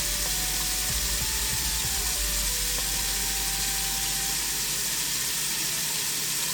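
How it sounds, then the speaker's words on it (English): Warm water gushes loudly from a sink tap in a steady, unbroken roar that fills the whole stretch, with a few faint clunks and a thin tonal whine early on. "What we're gonna do is throw it right here in the sink like this. Throw that water on warm."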